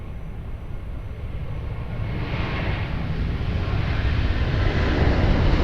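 A heavy airliner, a Boeing 747, taking off from runway 02 at Lisbon Airport, a broad low engine roar building steadily in loudness, heard from a distance.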